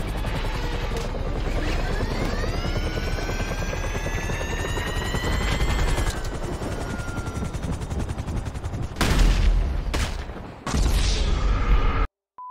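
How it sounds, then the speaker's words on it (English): Helicopter rotor and turbine roar in GTA Online, heavy gunfire and a crash as the aircraft is destroyed, loud and continuous before cutting off abruptly. "Killed my own helicopter."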